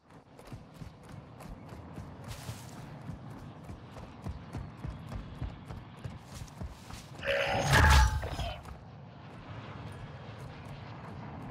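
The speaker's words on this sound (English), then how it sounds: "Oh, I can see the plane." A fixed-wing plane flying overhead in the Warzone video game, a low engine drone that swells to a loud, brief roar near the end amid steady game background noise.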